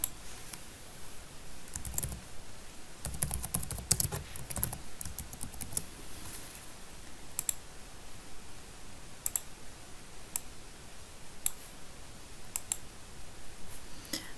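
Keys clatter steadily on a computer keyboard during a lesson on building online games in Genially: a soft, continuous run of close clicks with occasional sharper taps, no talking.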